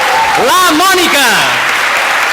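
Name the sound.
audience applause at a theatre workshop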